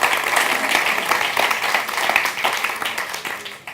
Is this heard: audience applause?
yes